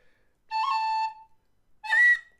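Two separate tin whistle notes, each held for about half a second with a clear, bright tone, separated by a short silence.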